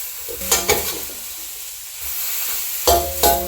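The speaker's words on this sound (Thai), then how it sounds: "แล้วก็ไม่ต้องผัดนานเกินไป ถ้าผัดนานเนี่ยเละครับ" Wai Wai instant noodles stir-fried in a hot pan, a steady sizzle broken by a few loud scraping, clattering strokes of the spatula near the start and end.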